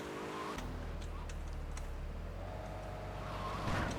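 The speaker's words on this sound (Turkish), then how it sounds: "Ha, Yakuza Stinger'ı bu. Japon işi bu." Engine drone of a Yakuza Stinger, a Japanese sports car in the game GTA 3, holding a steady low hum throughout with a brief rise near the end, under faint background clicks.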